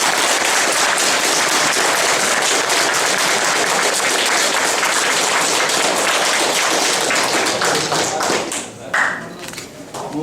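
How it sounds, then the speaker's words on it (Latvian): Loud, dense applause from an audience at a school graduation evening for teacher Andrejs Kopilovs, sustained clapping that thins out toward the end. "Aicinām ar skaļiem aplausiem skolotāju Andreju Kopilovu"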